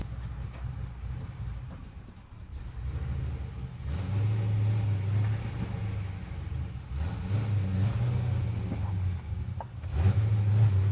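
A Pontiac GTO engine runs during a test drive, a steady low drone that swells into a louder, sustained rev midway and holds close and strong, with no talking over it.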